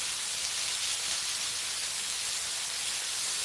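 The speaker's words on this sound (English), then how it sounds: "The griddle was pretty hot, so bacon's already cooking." Bacon sizzles on a hot griddle, a constant, dense hissing crackle heard up close and unbroken, with no voices over it.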